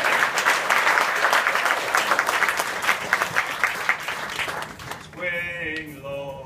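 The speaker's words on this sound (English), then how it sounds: "Let's give a round of applause." Audience applause after a menhaden fishing chantey performance by a group of chantey singers, steady dense clapping that fades near the end as singing voices come in.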